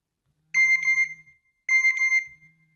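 A phone's text message notification plays twice, each a short bright ringing chime of about three-quarters of a second separated by a brief pause, clear and alone in silence.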